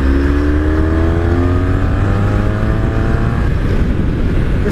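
A motorcycle accelerates along a road, its engine note climbing steadily in pitch as it revs up, with wind rushing across the microphone and no voices.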